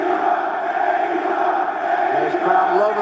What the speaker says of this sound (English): This crowd loving this